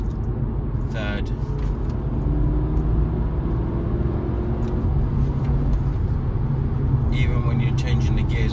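An Audi A5 2.0 TFSI quattro Sportback with automatic gearbox shifted manually down through the gears gives a steady low engine drone with a couple of brief rising blips, under someone talking.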